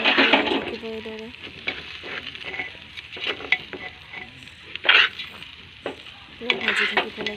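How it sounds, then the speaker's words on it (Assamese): Rice is stirred and fried in a pan, with repeated scraping strokes over a continuous sizzle and occasional light clinks of the utensil against the pan. "এইদৰে পূৰা লাৰি থাকিব যাতে তলত লাগি নধৰে"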